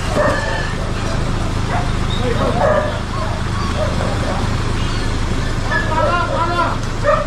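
Dog barking from inside a kennel on a city sidewalk, several sharp yips and barks scattered through the clip over steady street traffic noise, with people talking nearby.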